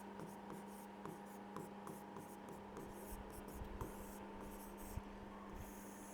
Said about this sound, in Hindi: लिख देती हूँ मैं यहाँ पर।